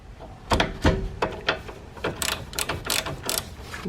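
A ratchet turns a 19 mm wrench on the outer tie rod nut of an Acura RSX. It gives quick bursts of clicking and metallic knocks, close by, in short irregular strokes with pauses between.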